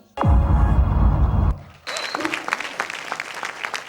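Audience applause at a televised singing competition quarter-final, a loud burst of clapping that cuts off sharply after about a second and a half, followed by softer scattered claps and crowd noise.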